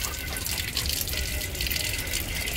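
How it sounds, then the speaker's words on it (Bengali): A household water tap turned on, running in a steady, close gush that splashes continuously for a few seconds with no talk over it. "দেখছো দেখো জলটা খুলে দিলাম, তাও খাবে না।"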